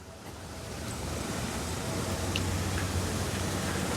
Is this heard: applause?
no